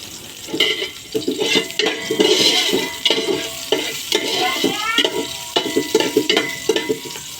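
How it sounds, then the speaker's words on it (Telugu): Green chillies frying in oil in a pot for hotel-style chicken biryani, a crackling sizzle broken by repeated scraping stirs in an uneven rhythm, close and fairly loud throughout. "నేను పచ్చిమిర్చి వేస్తున్నాను ఇందులో"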